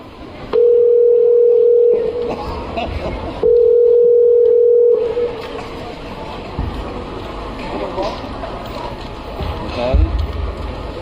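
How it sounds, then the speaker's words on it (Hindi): A telephone dial tone sounds while a teacher calls a pupil's parents. It comes as two loud, steady tones of about a second and a half each, separated by a pause, followed by background room noise. "टीचर, लीजिए, फोन कीजिए"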